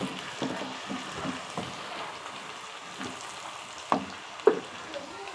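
Chopped tomatoes drop into hot oil with onions browned red and chicken, giving a steady close sizzle and crackle with a couple of sharp clicks from a utensil against the pan, no talking.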